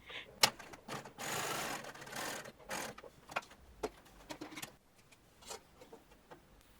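Sewing machine joining the shoulder seams of a shirtwaister dress to its front facings, heard as several short, close bursts of mechanical stitching with clicks and pauses between runs.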